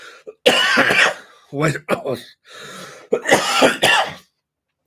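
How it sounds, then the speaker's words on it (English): A person coughs and clears their throat a few times in short harsh bursts, close up, with brief pauses in between. "Sorry, guys, I've had this cough for a while now."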